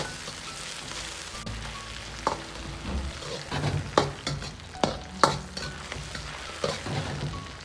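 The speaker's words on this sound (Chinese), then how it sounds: "下入葱姜蒜煸炒出香味" Scallion, ginger and garlic stir-fried in a wok with pork belly, dried chillies and Sichuan peppercorns, giving a continuous close sizzle broken by repeated sharp scraping strokes of a spatula against the pan.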